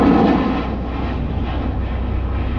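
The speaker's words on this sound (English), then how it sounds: "There goes a T-38." T-38 jet aircraft passing at Alliance Fort Worth Airport, a steady, loud broadband roar with deep rumble, strongest at the start and holding evenly throughout.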